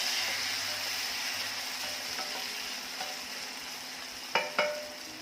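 Onion and finely chopped tomato sauté in a pan for a cauliflower potato dish, a soft continuous sizzle with a couple of sharper scraping clatters near the end.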